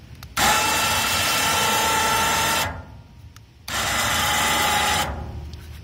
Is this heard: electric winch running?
yes